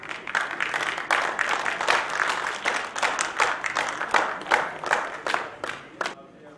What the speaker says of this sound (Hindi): जोरदार ताली हो जाए इस बच्चे के लिए